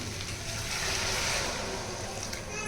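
Water pours into a pot for a soya chunks biryani as a steady, close, rushing wash of sound with no break, fairly loud and filling the whole stretch, with no talk over it.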